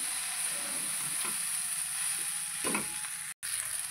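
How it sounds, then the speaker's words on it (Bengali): Pasta with mixed vegetables fries in a pan with a loud, continuous sizzle and hiss, broken by a few soft stirring scrapes. "আমার এটা 5 থেকে 6 মিনিট ভাজা হয়ে গেছে"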